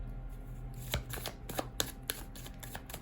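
Tarot cards being handled, a few quiet crisp flicks and taps of cards sliding and snapping together at close range over a faint hum.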